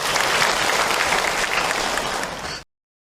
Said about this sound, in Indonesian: Tepuk tangan buat yang bertanya tadi.